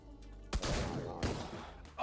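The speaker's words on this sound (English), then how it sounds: "I shot up in the air rather than where I wanted to" Gunfire in the top-down shooter DeadBolt, with a loud burst of shots near the start followed by a second sharp blast about halfway through, set over a steady game background.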